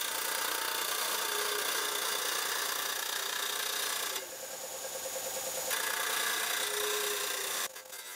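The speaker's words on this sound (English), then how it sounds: "I'm going to take it to the disc sander to bring the last bit down" A disc sander smooths the edge of a pressed copper logo with a loud, continuous abrasive whir and rasp that dips briefly midway and again near the end.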